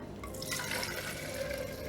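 A steady, continuous pour of water runs throughout, with a bright splashing texture and no voices, as liquid is poured off while preparing vegan yam cake.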